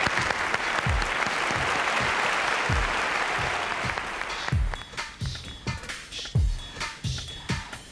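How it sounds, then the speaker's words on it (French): An audience at a fashion-show presentation bursts into loud, dense applause that carries steadily for several seconds, then thins into scattered individual claps toward the end. "Je vous demande donc de l'applaudir bien fort."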